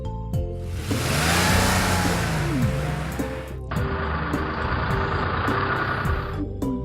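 A yellow toy taxi's engine revs in a loud, sustained roar, cuts off abruptly, then resumes as a steadier, thinner engine drone through to the end.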